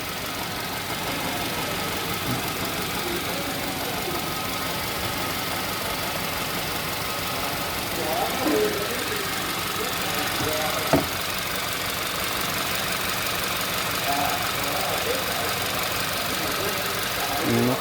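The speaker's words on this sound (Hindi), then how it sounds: "गाड़ी किस तरीके से नॉक कर रहा है।" A car engine idling with a knocking fault, a steady mid-pitched rumble with faint irregular ticking running through it, heard up close for a long stretch with a voice speaking in the background.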